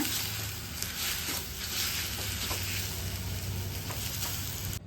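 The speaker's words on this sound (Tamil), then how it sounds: "வடச்சட்டி சூட்டில் இந்த ஆவாரம் பூவை வதக்கிக்கலாங்க" Avaram flowers sautéed in a hot pan off the heat, a soft, steady frying hiss with faint stirring patter, close and quiet, no voices.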